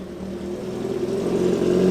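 A classic car engine revs at a classic car meet, a steady mid-pitched drone rising slightly in loudness over about two seconds, with no voices over it.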